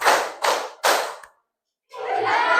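Three loud unison hand claps from a classroom group land in quick rhythm, followed by a brief pause and then a burst of mixed crowd noise and voices.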